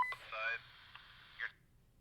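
Another person's transmission breaking in on a shared two-way radio channel: a brief, tinny, band-limited burst of speech-like sound with beepy tonal edges, lasting about a second and a half before cutting off abruptly into near silence.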